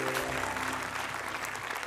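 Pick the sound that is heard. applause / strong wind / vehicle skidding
applause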